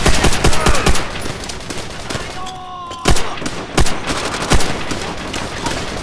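A BAR rifle fires in loud, close bursts of automatic shots in the video game Call of Duty: World at War. The rapid cracks repeat with a brief lull midway and are heard without talk.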